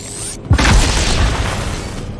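Grenade explosion in the shooter game Halo 2 Anniversary, a sudden loud close boom with a heavy low rumble that rolls on and slowly fades over the next couple of seconds.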